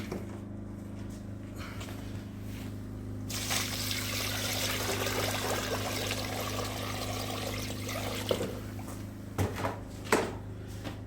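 Water running and trickling steadily as it is poured and mixed with quicklime for a lime wash, a continuous splashing wash with a few louder knocks and clunks near the end.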